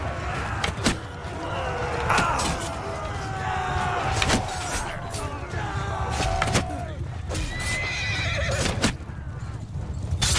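Horse neighing and whinnying in Mount and Blade II Bannerlord, several loud whinnies among hoof clip-clops and the dense din of a battle, with a steady noisy background throughout.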